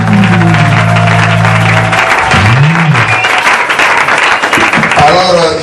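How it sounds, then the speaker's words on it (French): A church congregation cheering and applauding during an evening service, loud clapping and shouts mixed with music, with a preacher's voice heard over the crowd. "manifestez-vous par les acclamations."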